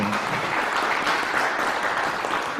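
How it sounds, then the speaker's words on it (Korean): Steady audience applause at a Korean young farmers' round-table talk show, a dense wash of clapping that fills the whole moment without talk. "크게 한번 박수 한번 더."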